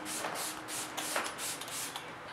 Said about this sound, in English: I'm just going to set the entire face by using the Smashbox primer water spray